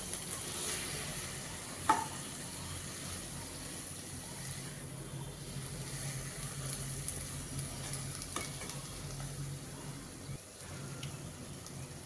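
Taro greens stirred and fried in a pan for a hilsa fish head dish, a continuous close sizzle with soft scraping of the spatula and one sharp utensil clank near the start, no talking.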